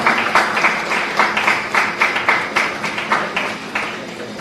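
Sustained audience applause at a law college ceremony honouring a graduating law student: dense, steady clapping from a crowd in a hall, loud and continuous throughout with slight swells in intensity.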